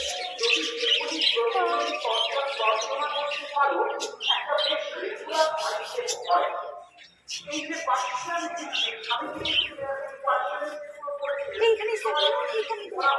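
Parrot chick giving repeated high chirps and short squawks, close by, mixed in with people talking throughout.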